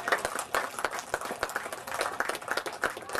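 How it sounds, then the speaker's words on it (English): A crowd applauds an angler called up at a Lake Macquarie bream fishing tournament weigh-in, with dense, steady clapping from many hands throughout, moderately close and without talk over it. "We give him a big round of applause for Anthony Thorpe."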